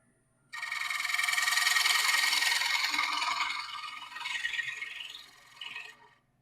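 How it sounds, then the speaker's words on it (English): A freshly sharpened woodturning tool cuts into spinning wood on a lathe, giving a steady loud rasping scrape for about five seconds that eases and trails off, with no talking. "this is my freshly sharpened tool. So let's see how it cuts."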